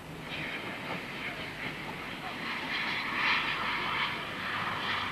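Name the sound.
GWR Castle class steam locomotives running light past Teignmouth Bay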